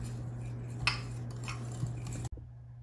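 Metal whisk stirring dry muffin ingredients, sugar and salt, in a bowl for blueberry muffins: soft scraping and light clinks under a steady low hum, ending abruptly.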